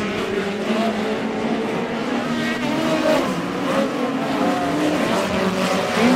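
Midget race cars in a POWRi West Midget League race on the dirt oval at Airport Raceway, engines howling and revving together in a dense continuous pack, loud and sustained with shifting pitch as cars pass.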